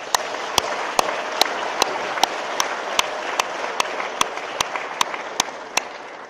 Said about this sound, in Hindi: मैं चाहती हूं कि आप प्लीज मेरी तरफ से अपने लिए इस एक्टिविज्म के लिए जोर से एक ताली बजाएं।